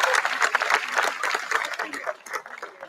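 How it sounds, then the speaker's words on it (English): Audience applause for djembe drummers at a West African cultural dinner event, a dense wash of clapping filling the room and slowly thinning toward the end. "how about one more round of applause for djembe"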